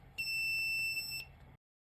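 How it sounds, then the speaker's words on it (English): A high electronic buzzer tone from a Raspberry Pi Pico ultrasonic-sensor warning sign sounds steadily for about a second, then stops abruptly, leaving low background hiss. "the lights light and the buzzer sounds"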